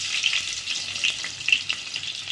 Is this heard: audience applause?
no